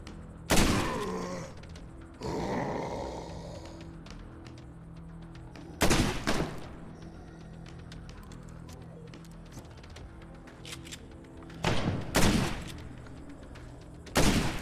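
Gunfire from the zombie survival video game State of Decay, with loud broadband shots in separate bursts, each one a single crack or a short volley, spread across the clip over a steady low background hum.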